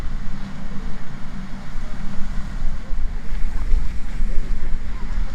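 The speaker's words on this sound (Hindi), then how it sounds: "ये देखिए बिल्कुल ऊपर पानी पड़ रहा है" The fountain show at the Palace of Versailles sprays water in a steady, rushing hiss, loud and close, mixed with wind and crowd noise.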